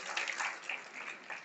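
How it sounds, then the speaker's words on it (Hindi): Audience applause for a local MLA at a college inauguration ceremony in Tikamgarh, a brief burst of dense clapping that rises and falls over about a second and a half, moderately loud with no voices. "मंच पर ही विराजमान आपके अपने यशस्वी विधायक राकेश जी के लिए जोरदार तालियां हमारे लिए।"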